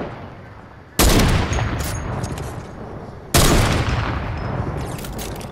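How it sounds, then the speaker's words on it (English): Gunfire in a sniper shootout video game: two loud, sharp shots about two seconds apart, each followed by a decaying rumbling tail. "Yep, people shooting."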